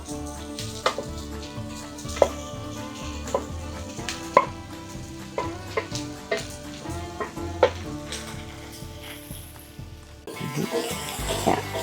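Potatoes tipped into a frying pan for chicken hash and stirred, a soft sizzle under repeated scraping and knocking of a utensil against the pan, ending in a brief louder burst of frying.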